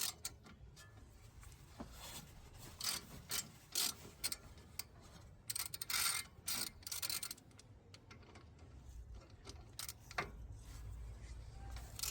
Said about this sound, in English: So we're using a 14mm socket.